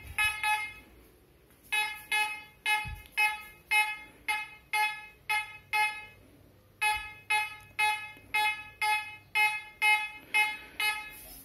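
A Fisher F22 metal detector sounds a loud, repeated beeping tone over metal, in regular pulses roughly twice a second, with a short pause near the middle before the beeping resumes.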